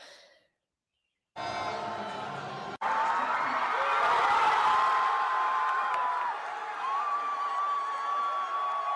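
A crowd in Vancouver cheers a New Zealand goal against Iran at the FIFA World Cup, a sustained roar of voices and whoops that swells after a brief sharp burst and then holds steady.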